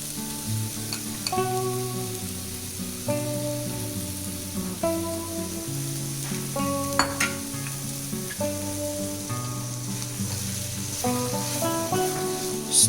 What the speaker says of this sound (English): Simmer your flame and add your rice.